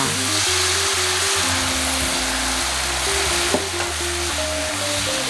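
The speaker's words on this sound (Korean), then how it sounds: "만들어둔 소스를 넣고 볶아줍니다." Bok choy and mushrooms being stir-fried with an oyster sauce mixture, a constant close sizzle with stirring, a single sharp clink partway through, under a steady tonal background.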